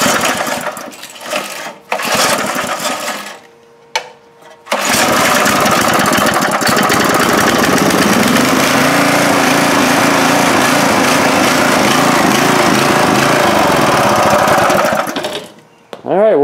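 Old rototiller engine, idle for about ten years, fired by rope pull: a few short tugs, then a loud, steady close-up engine roar that runs continuously before cutting off near the end.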